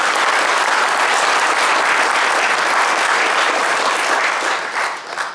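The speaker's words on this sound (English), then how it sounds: "I want to give you just a round of applause." A large audience applauds at a USAFA distinguished award ceremony, the loud, dense clapping sustained throughout and easing off slightly at the very end.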